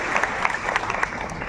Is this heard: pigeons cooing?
no